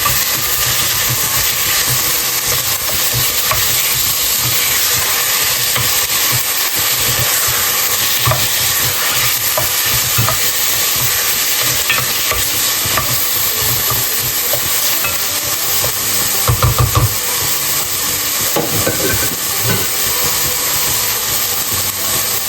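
Meat sizzles and fries steadily in a pot as the base of a Moroccan harira soup, a loud continuous hiss and crackle with occasional stirring clatter and no voices.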